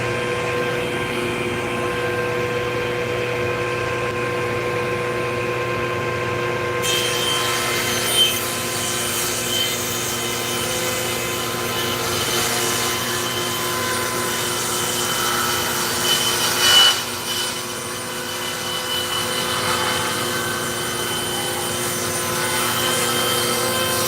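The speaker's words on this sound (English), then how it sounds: "here comes dust collector and table saw." A table saw rips through wood while a dust collector roars steadily underneath, a loud whining hum with the blade's pitch shifting as the cut starts and ends, no talking.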